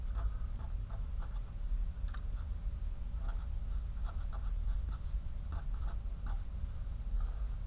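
A pen writing notes about formal charges and formal electrons, with steady scratchy strokes and small taps in quick irregular bursts, close by, over a low background rumble.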